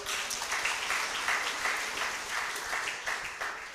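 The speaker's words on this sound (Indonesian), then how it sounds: "Tepuk tangan dong kaum bapak." Men of a church congregation clap together in a sustained burst of applause that fills the room steadily for the whole stretch, moderately loud with scattered individual claps standing out.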